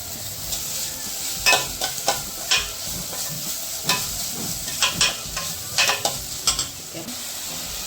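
Vegetables for Indian masala pasta, including ginger, tomato and capsicum, sizzle in a pan while a spoon stirs and scrapes in repeated sharp strokes over a steady frying hiss.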